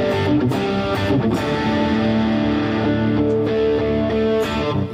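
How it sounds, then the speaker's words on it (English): Chapman ML-1 Pro electric guitar played through distortion, a loud continuous sustained chord with dense overdriven harmonics ringing steadily, with brief pick attacks between held notes. "And then we can just go through the whole thing again with the distortion on."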